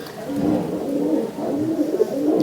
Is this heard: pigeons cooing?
yes